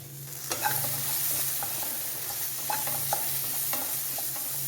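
Quiet frying sizzle of vegetables with pepper powder being stir-fried for noodles, with scattered clicks and scrapes of stirring in a pan, steady and fairly faint, with no voices.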